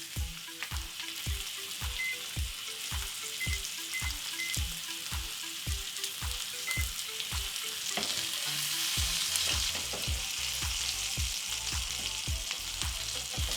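A rack of lamb searing in a hot pan gives a steady close sizzle, with regular low thumps and faint musical notes running over it, no voices.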